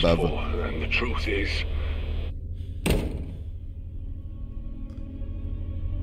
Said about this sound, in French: C'est qui qui s'amuse à fermer la porte oh